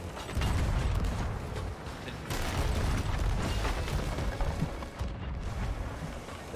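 Ship cannons firing during a naval battle in Sea of Thieves, heavy booms over a constant rumbling, creaking backdrop, with a sharp surge near the start and another partway through.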